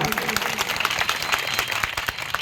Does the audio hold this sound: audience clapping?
yes